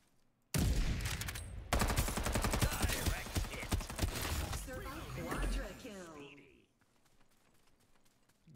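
Rapid video game gunfire in dense bursts, loud and close, with scattered single shots and mechanical clatter. A voice talks over the shooting before it fades out.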